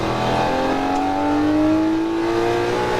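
Lamborghini Murcielago LP640 at full throttle on Las Vegas Speedway, its engine note rising steadily in pitch as it accelerates, loud and close, with a constant steady drone and no talk.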